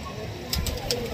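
Pigeons at a rooftop loft coo softly nearby, a low murmuring coo with a few brief higher chirps and rustles over steady outdoor background.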